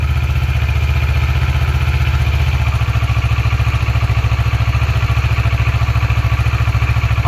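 A motorcycle engine idles loudly and close during Powertronics quick shifter calibration. It gives a steady, even pulsing throb with a slight shift in tone partway through, with no talking.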